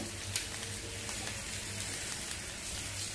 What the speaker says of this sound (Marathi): मध्यम गॅस ठेवून मिरच्या आपल्याला छान अशा भाजून घ्यायच्या सगळ्या बाजूने एकसारख्या